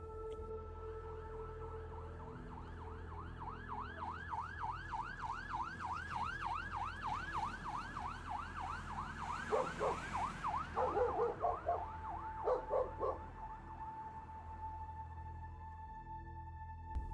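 A man imitates a police siren by mouth: a wailing siren rises and falls rapidly in a steady yelping pattern, close and loud, then breaks into choppy bursts before fading.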